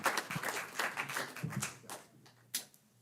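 An audience at a city council meeting applauds art contest winners with a burst of brisk clapping that fades out after about two seconds, leaving a few scattered claps in a quiet room.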